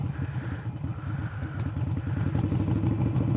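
A motorcycle engine runs close by in a parking lot during riding practice, a rapid low pulsing idle that rises slightly in intensity toward the end, with no speech.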